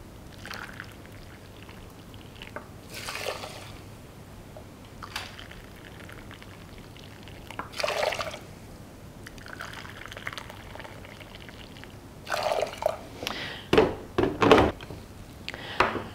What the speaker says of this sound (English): Then we're going to add 3 cups of boiling water